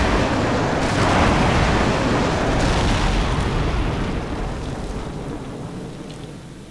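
Airstrike explosions in Call of Duty 4, a deep, sustained booming rumble that swells loud near the start and slowly fades away over several seconds, with no talking.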